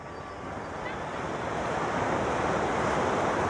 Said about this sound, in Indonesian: deburan ombak itu ya